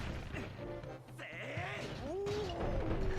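A goat in Zelda: Twilight Princess HD bleats in rising, wavering cries amid game sounds, a dull thud and steady background noise, the bleats growing louder toward the end.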